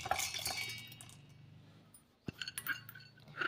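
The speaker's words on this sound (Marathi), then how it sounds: "इथे मिक्सरचं भांडं घेतलेलं आहे आपण आणि मिक्सरच्या भांड्यामध्ये ही ज्वारी आपण टाकून घेऊया" Soaked sorghum grains tipped into a mixer jar, a quiet scatter of small clinks and rattles against the container, followed by a few sharper knocks, close and faint.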